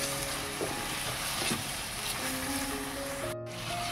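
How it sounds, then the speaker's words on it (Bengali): Fried potatoes sautéed with spices in a pan for a moong dal dish, a continuous close sizzle and frying hiss with faint stirring scrapes, heard alone. "আলুগুলো মশলার সাথে ভালোভাবে কষিয়ে নেব।"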